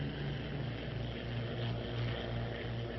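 Bell P-39 fighter plane in flight, its propeller engine giving a steady, loud, continuous drone with a low hum throughout, no voices.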